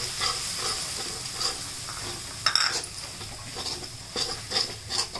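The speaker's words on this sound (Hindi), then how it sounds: "इसे आपको बटर में अच्छी तरीके से थोड़ा सा कलर चेंज होने तक भूनना है" Plain flour is roasted in butter in a pan while being stirred, with soft sizzling and repeated scraping strokes of a spoon, close and fairly quiet.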